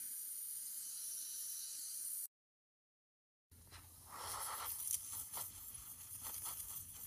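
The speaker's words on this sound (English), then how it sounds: "Cleaning my airbrush tip." An airbrush hisses steadily as its tip is cleaned of built-up paint, then cuts off into a short silence before resuming with a rougher, sputtering spray broken by small bursts.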